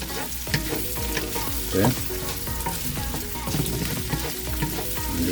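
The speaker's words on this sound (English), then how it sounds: "Me, I'm going to do a quick fry." Spam frying in a pan for a stir fry, a loud, steady, close sizzle with stirring scrapes throughout and a single brief spoken word.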